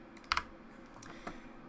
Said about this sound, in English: simply hit delete on the keyboard